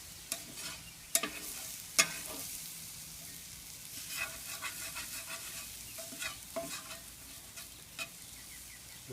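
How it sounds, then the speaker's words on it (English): A spatula stirs and scrapes thawed corn across the bottom of a hot skillet on a grill, with repeated sharp scrapes and clicks over a low sizzle, close and fairly quiet. "we're going to keep stirring around and get some more of this yummy gooey goodness off of the bottom"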